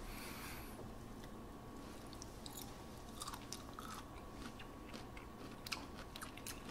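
Someone eats braised burdock root with sesame seeds sprinkled on top, producing quiet, close-up crunchy chewing and biting over a soft steady background hum, with no talking.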